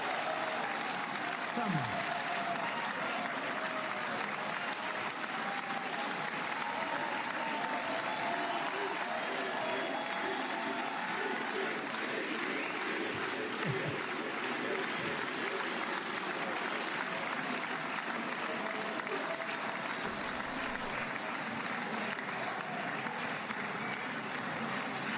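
A large crowd claps continuously and evenly for the whole stretch, a dense wash of applause with a voice briefly speaking over it.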